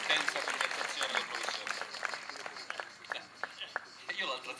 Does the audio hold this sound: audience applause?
yes